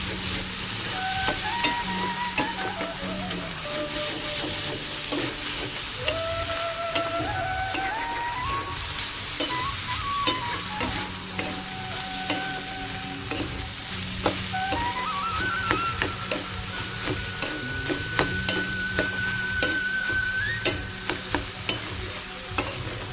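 Pui shak with small shrimp sizzles and pops in a hot pan, a continuous close hiss dotted with sharp crackling pops while a utensil stirs through it now and then.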